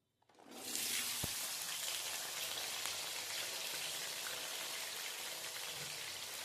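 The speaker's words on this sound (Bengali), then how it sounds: "তেলটা গরম হয়ে গেছে, এরপর কেটে রাখা পটলগুলো দিয়ে দিচ্ছি।" Pieces of pointed gourd hit hot oil and set off a loud, steady sizzle that begins abruptly and keeps crackling evenly throughout, with no voices.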